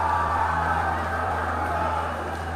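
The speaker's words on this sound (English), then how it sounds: "crowd reaction is pretty crazy" A wrestling arena crowd cheers and whoops in shock, a loud, dense, steady roar of many voices that holds evenly throughout.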